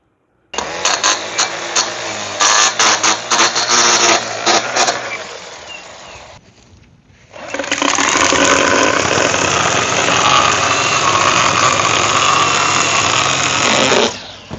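A Ryobi 18V brushless string trimmer runs with a steady high whine, pauses briefly and drops near silent, then spins back up and holds a loud buzz close by.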